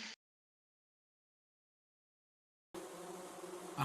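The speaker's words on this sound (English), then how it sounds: "I missed my bee background." A steady, dense buzzing of bees used as a background sound effect cuts in after a long silence, loud and continuous until the end, with no talk over it.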